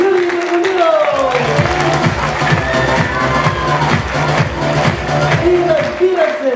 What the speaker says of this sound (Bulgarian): Аплодисменти за най-добрия учител в региона Юрий Драгомиров!